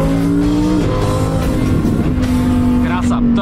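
A Lamborghini V10 engine and exhaust roars loud and close, a sustained rich tone that shifts pitch as revs change, with someone talking over it.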